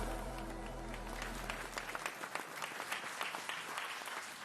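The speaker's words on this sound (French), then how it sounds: "On peut encore les applaudir, s'il vous plaît" Audience applause at a sports awards ceremony for sportsperson of the year, a dense wash of clapping from a large crowd that carries on steadily, with a low hum fading out early and scattered voices underneath.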